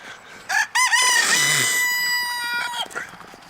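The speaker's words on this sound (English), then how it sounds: "This is chickens out here." Rooster crowing loudly up close with a long drawn-out cock-a-doodle-doo, framed by short clucks from chickens in a farmyard coop.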